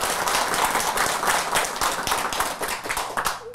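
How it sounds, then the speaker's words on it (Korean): A congregation in a Buddhist temple dharma hall claps together to welcome a visiting monk's talk, producing a full, sustained patter of many hands that stays even and continuous throughout. "우리 환영하는 마음으로 다 같이 박수 한번 치십시다."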